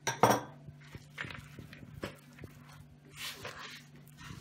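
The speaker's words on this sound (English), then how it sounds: "you want to make sure that you mix that up very nicely so that everything is evenly distributed" Meatball mixture is worked in a bowl, with a few sharp clinks of utensil against the dish and soft squishy mixing sounds, close and quiet without talk.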